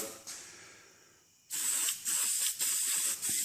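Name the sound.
spraying adhesion promoter on plastic car parts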